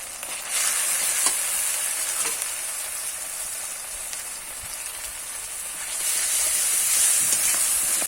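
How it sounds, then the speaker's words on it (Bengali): Onion, chili paste, turmeric and salt frying in oil as they are stirred: a continuous close sizzle with a few scraping clicks of the spoon, swelling louder toward the end, with no voices. "এখন মশলাগুলি ভালো করে ভাজা হয়ে গেছে"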